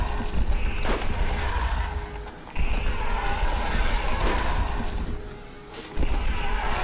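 Gunfire in the shooter video game Borderlands, dense bursts of shots with sharp cracks near 1, 4.3 and 6 seconds over a continuous loud clatter of battle.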